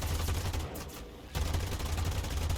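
Aircraft machine guns fire in a flight game with an IAR-81C fighter, in two loud sustained bursts with a short break between them, over the steady roar of the engine.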